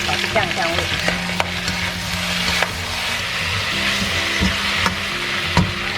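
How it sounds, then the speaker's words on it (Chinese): Aromatics and sauce are stir-fried in an iron wok, with a loud continuous sizzle broken by a few sharp scraping clacks of the utensil against the metal. "接着我们再把调好的酱汁给它放上去，炒出酱香味。"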